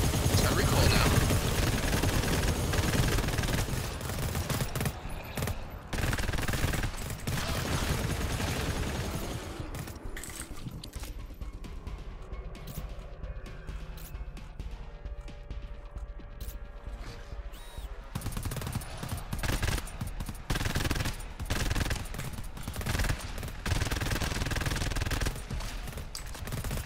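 Sustained automatic gunfire in the video game GTFO, loud rapid bursts with brief pauses between strings of shots, with players talking over the shooting.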